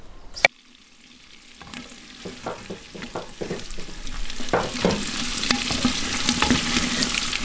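Onions and carrots fry in a pan at an outdoor forest cooking spot, a steady sizzle with scattered stirring scrapes and clinks after a sharp knock near the start, growing louder and denser toward the end.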